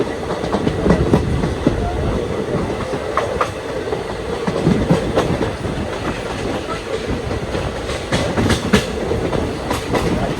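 A passenger train runs on rails near Thirumangalam on the outskirts of Madurai, a steady rumbling clatter with rhythmic clickety-clack wheel beats and occasional sharper rattles throughout.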